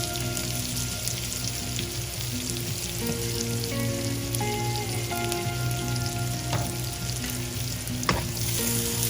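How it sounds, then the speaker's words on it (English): About two medium onions, finely sliced, fry in a pan with a constant close sizzle. A low hum runs beneath, with small crackles and a sharper pop near the end. No one speaks. "I'm now going to add to this the onions that I have chopped."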